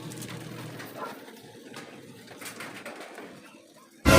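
A racing pigeon coos softly as it returns to its loft in the rain after a derby race. The cooing sits under steady rain hiss and ends in a sudden loud bang.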